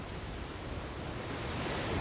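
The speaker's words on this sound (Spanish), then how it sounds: "el viento y las olas toman al asalto los acantilados de gris-gris" Wind and surf crash against the sea cliffs of Gris-Gris on Mauritius's southern coast, forming a steady, loud roar of churning water with no speech.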